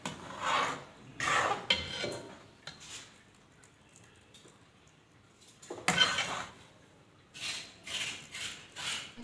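Scraping strokes of a spoon against a pan while cream cooks down into homemade desi ghee, quiet and close, in irregular bursts of rasping with softer gaps between them.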